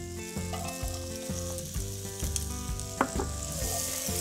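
Onion sizzling in melted butter in a skillet, a bright continuous hiss over a low repeating musical backdrop, with small spatters and stir sounds.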